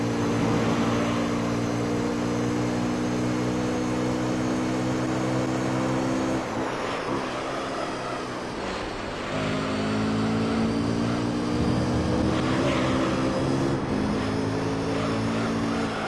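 Racing car engine in the video game Gran Turismo 3 during an amateur All Japan GT championship race, a loud steady high-revving drone that dips briefly mid-clip as gears shift, then climbs again.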